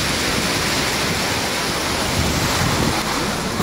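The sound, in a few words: heavy rain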